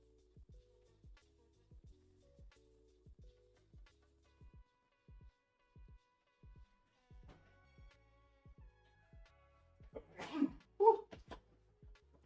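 A sharp sneeze bursts out near the end after a quiet stretch of steady, regular ticking or tapping, followed by a short second vocal burst.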